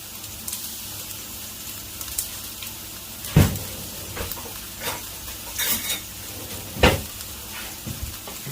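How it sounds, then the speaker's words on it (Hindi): Carrots browning in a hot pan for Kabuli pulao, a low steady sizzle broken by several sharp stirring scrapes and clinks of a utensil against the pan. "गाजर को मैं थोड़ा सा ब्राउन करूँगा।"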